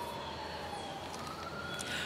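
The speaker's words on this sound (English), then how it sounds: "I don't know if you could pick up that that siren" An emergency vehicle siren outdoors in Akron, a steady wailing tone heard faintly at a distance indoors, continuous and with no talking.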